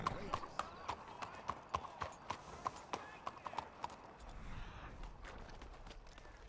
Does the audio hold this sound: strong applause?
no